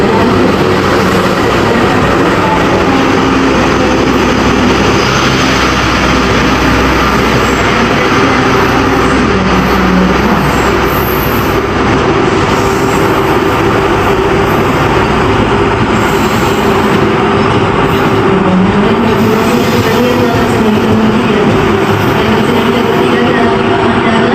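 The Malabar passenger train rolls into a railway station in Indonesia, a loud, continuous rumble of wheels and carriages with rail clatter and shifting mechanical tones sustained throughout.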